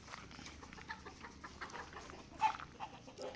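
A Thai fighting cock kept at a home breeding yard gives faint, soft clucks, with a few short calls standing out against a quiet background.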